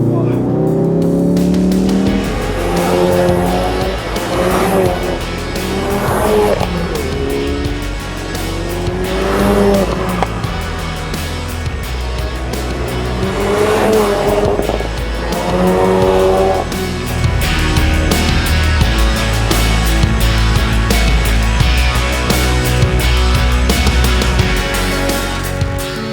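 A 2016 Ford Focus RS with 350 PS driven fast through corners, its engine loud and steady, rising and falling in pitch with repeated upshifts and revving, while someone talks over it throughout.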